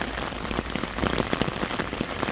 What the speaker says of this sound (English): it's pissing down, I mean it's raining